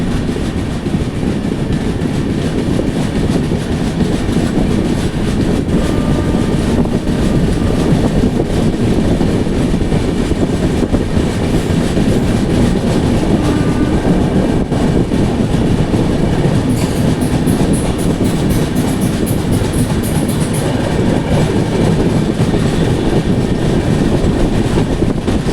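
Mumbai Central Duronto Express rushing through Bharuch station without stopping, a loud, steady roar of carriages and rhythmic wheel clatter over the rails lasting throughout, with faint squeal near the end.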